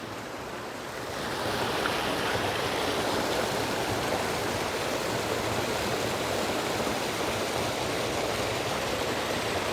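Water rushes in a steady, loud, broadband roar as a stream flows near a waterfall, rising slightly after the first second and then holding constant without any talking.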